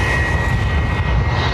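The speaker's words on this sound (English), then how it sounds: "we'll get the Emirates coming in" An Emirates airliner arriving at Dublin Airport produces a steady, loud roar of jet engines, with broadband noise and no voices.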